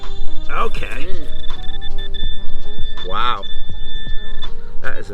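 A metal detector sweeping the grounds of an old house gives a sustained, deep, steady tone that holds for several seconds, with excited nearby voices talking over it.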